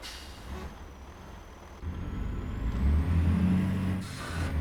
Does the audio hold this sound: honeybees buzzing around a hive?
no